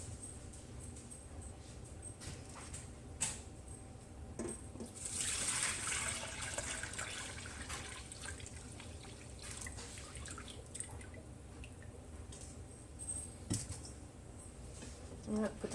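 Homemade apple cider vinegar dripping and trickling through reusable cheesecloth as it strains, a faint continuous liquid patter with a brief louder splashy rush, under low room noise.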